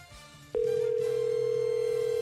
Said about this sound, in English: call the Queen Swiftie. Go ahead. Yeah, no, that's fine. You can dial it